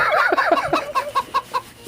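Chickens cluck loudly and close by in a quick run of rising, squawky calls that settle into a steady series of short, evenly spaced clucks.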